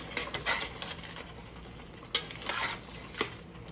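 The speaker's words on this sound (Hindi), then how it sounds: "अभी इसे अच्छे से मिक्स कर लेते हैं मसाले को।" Spices being stirred into chicken in a cooking pot for butter chicken, with soft scraping and light clinks of a utensil against the pot in irregular bursts, close and fairly quiet, no talking.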